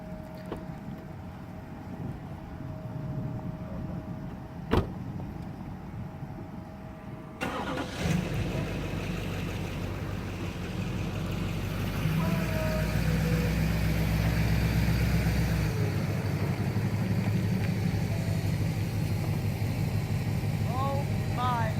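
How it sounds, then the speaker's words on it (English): A pickup truck starts up with a sharp onset, then its engine runs steadily and grows louder as it is driven and parked under a tree, with faint voices over the motor. "I'm gonna park my truck underneath this tree"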